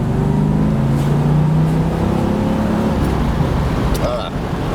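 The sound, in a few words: car engine revving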